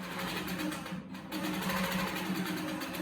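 A sewing machine running steadily through free motion stitching, a continuous close whir with a soft rapid needle rhythm, briefly easing for a moment before carrying on at full pace, with no talking.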